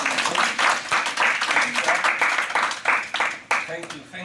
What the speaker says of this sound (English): So let's give him a round of applause before he gets into the book.